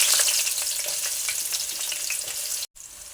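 Cloves, cinnamon, cardamom and a bay leaf fry in oil for veg biryani, giving a loud, dense, continuous crackling sizzle up close that cuts off briefly near the end, with no one talking.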